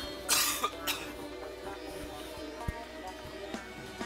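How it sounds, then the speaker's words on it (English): A single cough bursts out near the start, fairly close and moderately loud, followed by faint scattered clicks and soft background sound from a game. "That felt like a good cough."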